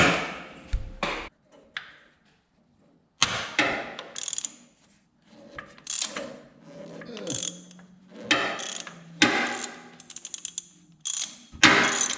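A ratchet backs a bolt out while a 1856 red tractor is being split, giving repeated bursts of sharp metallic clicking separated by pauses and clanks, close and clear with no talking.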